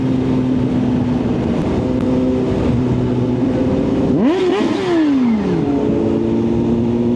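A Kawasaki Zh2 motorcycle's engine and exhaust humming close by on a ride in Batangas, then a sharp rev that rises and falls around the middle before settling back into a steady drone.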